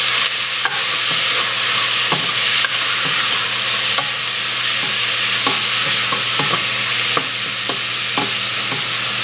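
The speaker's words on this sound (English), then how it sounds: "Just keep stirring that meat and getting it browned." Diced venison and onions brown in a hot pan, producing a loud, continuous close sizzle punctuated by regular scraping and tapping of a utensil as the meat is stirred, with no talking.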